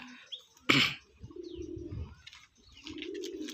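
Pigeons kept as a hobby, called sapar pigeons, give a low, throaty cooing in a few repeated phrases, close by, with a sharp rustle or wing flap near the start.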